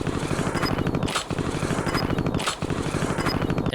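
Riding a zip line in the Warzone video game, a continuous rapid rattling mechanical whir with a periodic swoosh about every one and a half seconds, steady and close.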